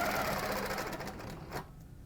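A sewing machine stitches a curved quilting ruler design in a rapid, even mechanical chatter that runs steadily, then briefly stops near the end, close and moderately loud with no talking.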